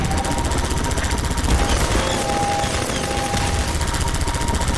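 Gunfire in Half-Life 2, dense rapid shots rattling steadily throughout over a faint background tone, loud and close.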